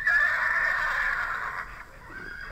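A single pony whinnies close by, a long, high, wavering neigh that fades out over a couple of seconds.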